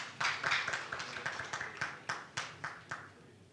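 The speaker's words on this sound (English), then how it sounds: "A round of applause." A small audience claps at a regional East African dialogue forum, a sparse, fairly faint round of individual claps at an uneven pace in a room.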